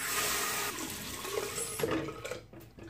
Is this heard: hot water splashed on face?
yes